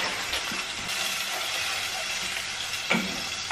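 Onions frying in a pan give a soft, even sizzle with a few brief stirring clatters, heard close and alone.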